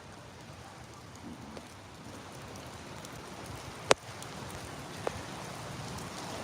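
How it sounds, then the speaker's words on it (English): Steady rain falls on a street in Phnom Penh, Cambodia, near the Russian Market, a continuous even hiss with a couple of sharp knocks, and no talking. "It's raining."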